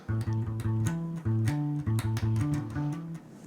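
A bass guitar plays a bouncy, syncopated riff, climbing into a higher register, short plucked notes with brief gaps, close and clear with no voices.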